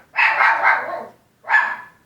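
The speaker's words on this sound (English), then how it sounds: "Please excuse Stella back there barking." A dog barks twice nearby, a longer drawn-out bark followed by a short sharp one after a brief pause.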